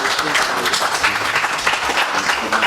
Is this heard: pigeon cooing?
no